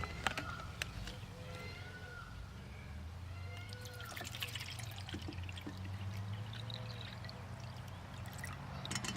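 Water pours steadily into a metal canteen cup, a quiet continuous trickling and splashing with faint rising ringing tones as it fills.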